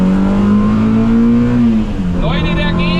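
A Simca Rallye 2 rally car revs hard in second gear, its engine note rising steadily and loud at close range, then dropping as a brief voice speaks over it.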